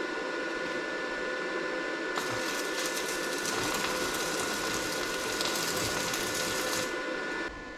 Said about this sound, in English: So now we're going to strike a weld and see how many amps we're putting out.